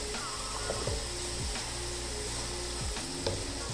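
Carrot halwa with khoya cooking in a covered pan on a low flame, halwai style: a soft, faint, continuous sizzle with occasional light clinks.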